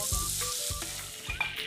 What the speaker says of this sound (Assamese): এইখিনি দিয়াৰ পাছত অকণমান সময় কম জুইতে লৰাই লৰাই ভাজি আকৌ ঢাকনখন লগাই দিম।